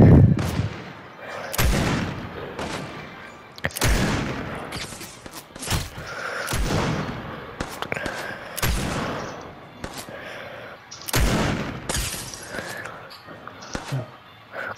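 Video game gunfire in a loud burst of sharp, repeated shots spaced through the stretch, with excited players talking over it throughout.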